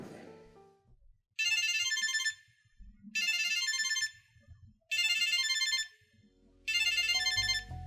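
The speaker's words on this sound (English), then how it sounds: "This is the speaker of the first generation Galaxy Tag. How it sounds like." The small speaker of a first-generation Samsung Galaxy SmartTag Bluetooth tracker plays a bright, tinny electronic chime melody in four repeated bursts, fairly quiet with soft handling noise between them.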